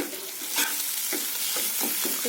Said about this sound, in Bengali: খুব ভালো করে ভাজা ভাজা করে ভেজে নেব।